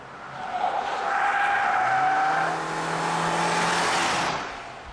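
Tires of a 2015 Subaru Outback 2.5i with a 175 hp engine squeal on a track, a loud sustained screech with a wavering pitch that swells, dips and swells again before fading, with no talk.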